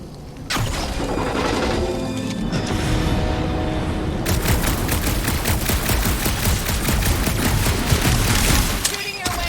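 Rapid automatic gunfire in the Guardians of the Galaxy video game rattles loud and close. There is a short pause, then a long, sustained burst of shots that continues to the end, layered over game effects.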